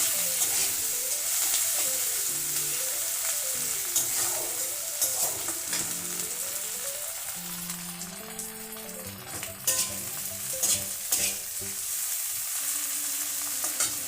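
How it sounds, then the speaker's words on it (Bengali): Tomato with onion and spices frying in a pan for a moong dal with katla fish head, a steady close sizzle with scraping stirs and faint utensil clinks throughout. "টমেটোটা একটু ভাজা ভাজা করে নিতে হবে।"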